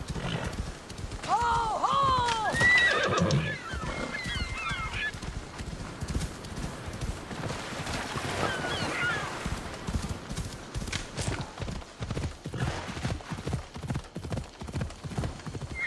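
A horse gallops in Assassin's Creed Odyssey, with fast, steady hoofbeats close by throughout and a whinny near the start, while a voice gives a brief shouted call over the rhythm.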